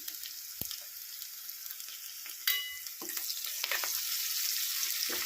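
Taro root frying with onions, dal and salt in a generous amount of oil in a pan, a steady close sizzle with scraping stirs and a louder burst midway.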